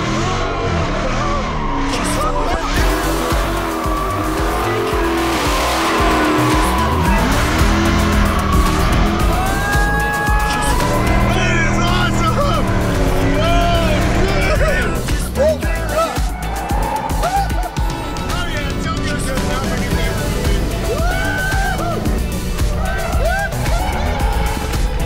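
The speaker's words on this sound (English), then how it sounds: "We're gonna get in this car. We're gonna go really fast and hang on to the oh shit handles." A car speeds hard through a ride in Las Vegas with loud tires squealing and skidding, engine revving and surging throughout, while passengers shout and talk excitedly over it.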